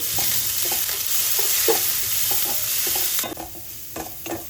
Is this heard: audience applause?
no